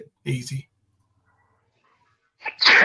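A single sharp sneeze bursts out at the end after a brief spoken word and a pause, close and fairly loud indoors.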